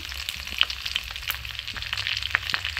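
Whole dried red chillies fry in hot oil, giving a close, continuous crackling sizzle with scattered sharp pops throughout and no voices.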